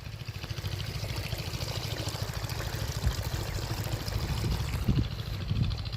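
Irrigation water streams steadily into a farm field, a continuous rushing pour with low bubbling and gurgling that swells slightly toward the end, close and without talk.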